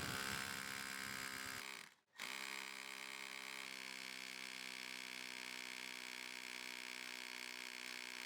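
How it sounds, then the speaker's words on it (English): An SDS drill runs steadily while boring fitting holes in an exterior wall to mount a Reolink RLC-423 PTZ security camera. The loud, continuous motor whine and hum breaks off briefly about two seconds in, then resumes and holds to the end. "I'm now drilling the fitting holes using a SDS drill."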